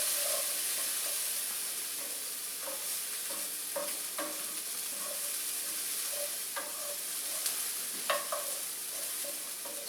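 Onions frying for onion gravy sizzle and crackle steadily in a pan, with occasional clinks and scrapes of stirring, and no talking.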